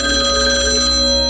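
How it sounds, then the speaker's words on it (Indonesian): A telephone bell ringing at night in a house, a loud, steady, sustained electronic ring with strong tonal harmonics filling the whole moment, heard alone without talk. "aku terbangun kembali ketika mendengar suara telepon berbunyi"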